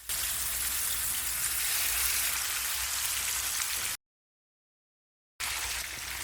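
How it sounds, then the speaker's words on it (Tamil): Fish fries in oil in a kadai with a loud, dense, rain-like sizzle that runs steadily, cuts out to silence for a moment, then resumes. "ஒரு கடாயில் தேவையான அளவு எண்ணெய் சேர்த்துட்டு மீனை பொரித்து எடுத்துக்கலாம்"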